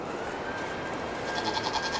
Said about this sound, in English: The goat's wondering what is going on.